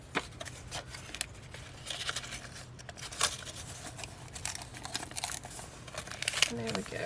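Paper and a plastic sandwich bag pocket being folded and creased for a craft journal, giving soft crinkles and rustles with a few sharper crackles over low steady background noise, close and quiet.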